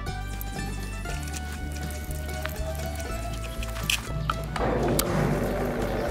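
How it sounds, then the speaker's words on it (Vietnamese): A B350 coconut fiber shredding machine on 380V power runs continuously with a steady low mechanical hum and droning tones, joined by watery crackling and a harsher grinding surge near the end as pineapple is fed in. "máy băm rất nhanh mà lại băm rất là đơn giản luôn"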